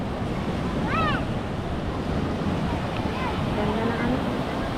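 Ocean waves wash onto a beach at low tide around sunset, a steady broad roar of surf with wind buffeting the microphone, continuous and fairly loud throughout, with faint voices and whistle-like sounds in the background.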